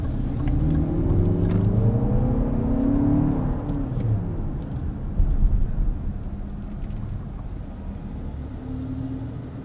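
A 2024 Lexus TX 500h F Sport hybrid pulling away hard in sport mode, heard from inside as a smooth rising engine and motor hum with road rumble that climbs in pitch, then eases to a steadier cruise.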